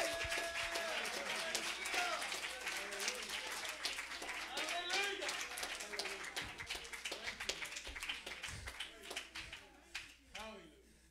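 A church congregation claps and shouts praise during a Sunday morning service in a sustained burst of applause with shouting voices, gradually thinning out toward the end.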